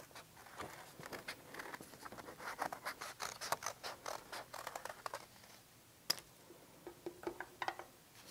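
Scissors snip through folded paper in a quiet art class, a faint close run of quick crisp cuts and rustles with brief pauses, and one sharper snip near the end.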